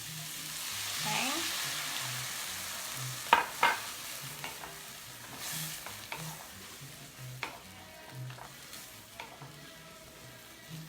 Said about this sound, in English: So I got this stir frying.